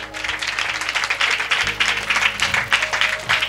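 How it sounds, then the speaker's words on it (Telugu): A church congregation applauds during a Sunday sermon, a dense crowd of hand claps with a rhythmic, pulsing swell, while a faint voice and a low hum sit beneath. "just give claps to Jesus Christ"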